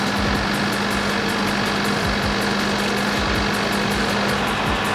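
A 2022 Range Rover Sport, a wrecked vehicle being rebuilt, idles steadily up close, its engine giving a constant, even hum with a faint rhythmic pulse and no voices.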